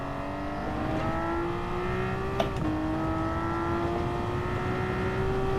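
A Porsche race car accelerating steadily on track, its engine note climbing smoothly through a single upshift around midway, then pulling on in a steady drone without any talking.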